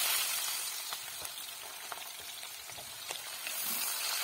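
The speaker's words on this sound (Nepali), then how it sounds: "यहाँनिर पालक बनाउँदैछु है पालकको लागि चाहिँ दुईवटा सुक्खा खोर्सानी हाल्दैछु" Two dry red chilies and chopped onion fry in a pan of hot oil for palak paneer, giving a steady close sizzle with occasional stirring scrapes throughout.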